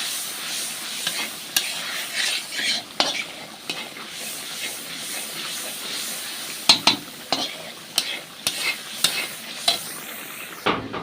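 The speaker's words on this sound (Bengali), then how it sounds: "তো মশলাটাকে ভালোভাবে এভাবে কষিয়ে নেব।" Spice masala is stirred and fried in a pan during outdoor picnic cooking, with a constant sizzle under repeated scraping and clinking strokes of the spoon that quicken toward the end, close and without talk.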